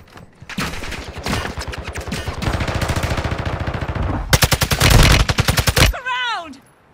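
Heavy automatic gunfire in Call of Duty: Warzone, long rattling bursts that build to a sharp rapid stretch near the end before cutting off, followed by a brief whistling, sliding tone.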